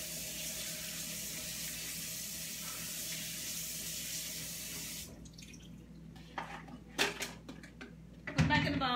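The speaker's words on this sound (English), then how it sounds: "I'm going to go rinse these off real quick." Tap water runs steadily over fruit in a sink, a dense hiss that breaks off halfway, then a few clattering knocks and a short burst of noise.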